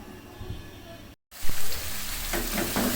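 Chicken with spices is sautéed in a pan, a soft low sizzle broken by a brief silence and then a couple of louder stirring scrapes, with the frying growing slightly stronger afterward.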